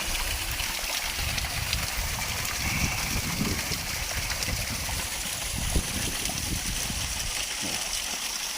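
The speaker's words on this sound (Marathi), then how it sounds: "वरती असं डोंगर रानातून आलेलं पाणी आहे." A small waterfall stream spilling down from a hillside forest, a steady broadband rush of flowing water with low splashing churn, continuous and fairly close throughout.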